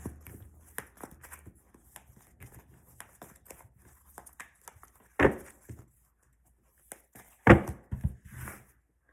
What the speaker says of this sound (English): They're so hard to shuffle.